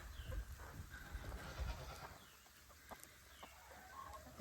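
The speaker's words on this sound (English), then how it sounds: "Snow isn't bothering the chickens." Chickens cluck faintly in the snow on a farm, with soft scattered calls over quiet outdoor background noise.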